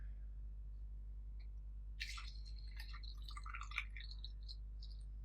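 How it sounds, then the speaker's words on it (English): Fluid trickles and drips as it is slowly poured through a funnel into a copper brass radiator for liquid cooling, a faint, irregular run of small splashes and gurgles starting partway in against a low steady hum. "get your funnel and start on one side and slowly pour your fluids into here"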